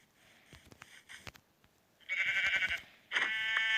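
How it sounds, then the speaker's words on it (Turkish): Two loud, nasal synthetic bleats of a Minecraft sheep ring out in quick succession after some soft clicks and thumps, close and clear. "Ha şurada koyunumuz var."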